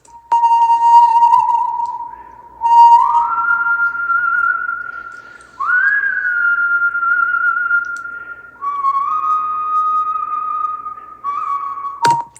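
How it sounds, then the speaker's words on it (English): A whistled melodic sample from a music production session, several clean sustained whistle phrases that slide and bend between pitches, loud and close with short pauses between them and no talking. "Then here's the whistle."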